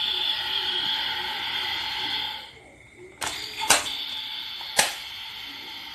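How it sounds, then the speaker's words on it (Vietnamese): DX Rabbit Tank Sparkling toy from Kamen Rider Build being shaken makes an electronic fizzing soda-can hiss for about two seconds, followed by several sharp plastic clicks, close up. "Khi lắc lên thì nó sẽ cho ra âm giống như là khi ta lắc một lon nước ngọt thật, nó sẽ sủi bọt lên."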